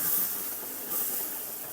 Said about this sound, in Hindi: यहीं पे हम ना इसमें डाल देंगे ये दूध